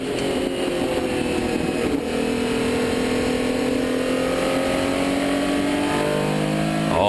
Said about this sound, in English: When he puts the throttle down, you can hear that engine. You can hear it just start roaring